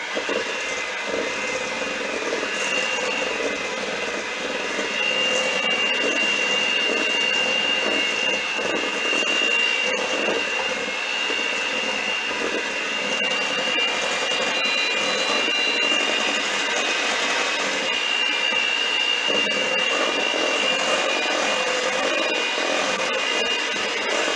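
Electric mixer whirring steadily through molasses cookie dough, a continuous even motor drone with a high whine running unbroken for about twenty-four seconds, close and fairly loud.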